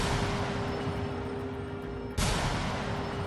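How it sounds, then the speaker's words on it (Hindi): A bomb blast inside a church during prayer, picked up by CCTV: a sudden loud burst cuts through a steady hum and noise, then a dense roar lingers to the end of the clip. "ये वो धमाका है जिसकी गूंज पूरी दुनिया ने सुनी"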